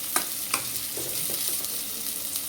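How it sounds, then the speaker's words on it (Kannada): Onions, mustard seeds and curry leaves fry in a pan for Mysore sambar, giving a faint, steady sizzle broken by a couple of sharp clinks as they are stirred. "ಚೆನ್ನಾಗಿ ಗೋಲ್ಡ್ ಕಲರ್ ಬರೋವರೆಗೂ ಬೇಯಿಸ್ಕೊಳ್ಳೋದು, ತಿರುಗಿಸ್ಕೊಳ್ಳೋದು"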